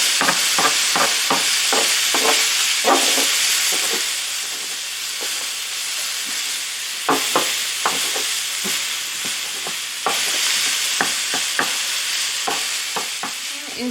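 Ground turkey sizzles and browns in a pan, with a steady frying hiss and repeated scraping, stirring strokes as the meat is broken up, loud and close with no talking.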